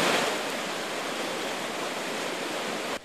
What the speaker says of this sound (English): The water was raging today at Moats Falls in Arden.